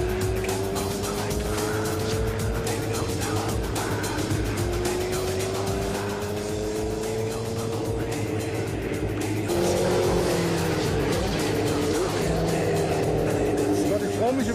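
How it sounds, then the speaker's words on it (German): A car engine revs and accelerates as the gas pedal is pressed, its pitch rising and falling in long sweeps with tire noise. The engine grows louder partway through, and people talk over it. "ich traue mich überhaupt nicht aufs Gaspedal zu treten, aber jetzt mache ich es einfach mal"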